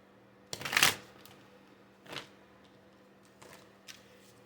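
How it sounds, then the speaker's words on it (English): Tarot cards being shuffled, one loud riffle up close followed by a few softer brushes and taps of the deck. "I want to shuffle on camera"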